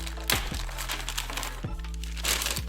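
Close crinkling and crackling of a small plastic bag being opened while unpacking a UDIRC 1607 Porsche 911 4WD radio-controlled drift car, with sharp crackles scattered over a low hum.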